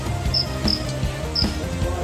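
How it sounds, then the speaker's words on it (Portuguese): A cricket indoors in a house gives three short, sharp chirps spaced unevenly over about two seconds, close and clear above a low steady hum. "Esse grilo tá aqui na minha casa há muitos dias e ele faz muito barulho"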